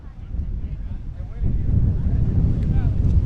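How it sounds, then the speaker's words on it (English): Steady broadband wind rumble buffets the microphone at a softball game, growing louder partway through, with faint voices and crowd sounds underneath. "you might be able to hear in the background there how windy it is"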